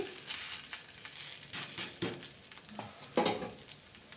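An egg dosa roasts on a hot pan, giving a steady close sizzle and crackle with a few louder pops and bursts of spatter, heard alone without any voices.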